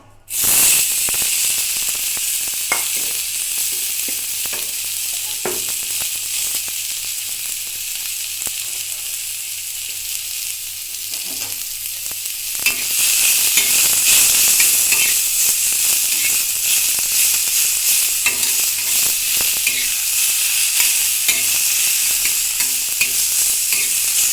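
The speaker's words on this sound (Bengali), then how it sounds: "এবার এই সব কিছু সবজিগুলো আমি একটু ভেজে নেব।" Carrot, onion and cucumber fry in oil on a tawa with a steady, close sizzle and occasional stirring scrapes. The hiss swells louder about halfway through and carries on without any voices.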